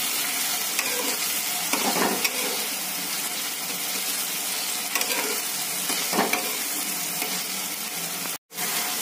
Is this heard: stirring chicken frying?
yes